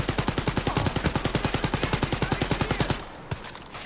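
Rapid automatic gunfire in the shooter Wolfenstein: Youngblood, a loud, even burst of about thirty shots that stops abruptly, followed by a single softer report.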